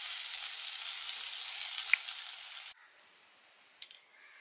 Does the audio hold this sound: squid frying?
yes